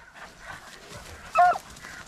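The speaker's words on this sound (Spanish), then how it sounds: "¡Anda, viene el perro ahí!" A dog during a rabbit hunt gives a single short bark or yip near the end, standing out over quiet outdoor background with faint distant voices.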